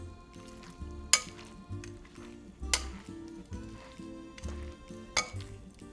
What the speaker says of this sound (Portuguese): Com a ajuda de um pegador agora você espalha bem o amido de milho